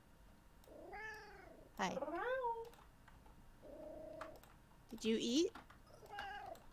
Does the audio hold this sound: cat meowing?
yes